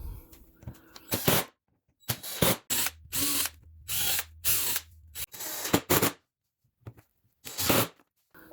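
Power drill driving screws into cedar shutter braces, with about seven short whirring bursts separated by brief pauses, close and fairly loud, and no talking.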